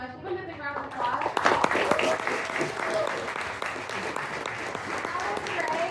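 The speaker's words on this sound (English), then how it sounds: "Give him a big round of applause." An audience applauds a speaker at a panel talk on AI, dense sustained clapping that builds quickly and holds steady to the end of the clip.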